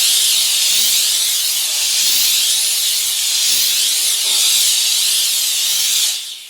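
A 20-year-old Scunci Model S steam cleaner hisses loudly and steadily for about six seconds with slight surges, then the steam cuts off abruptly near the end.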